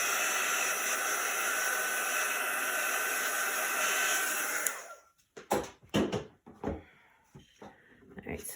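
An electric craft drying tool, quieter than a blow dryer, runs on high for about five seconds over chalk stencil work, a steady loud whooshing hiss that cuts off abruptly, followed by quieter knocks and handling sounds nearby.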